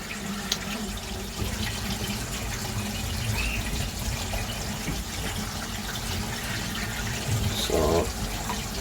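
Water flows steadily from a 30 watt UV clarifier into the filter tank of a DIY garden koi pond, a close, continuous rushing and splashing with a brief bubbling burst near the end.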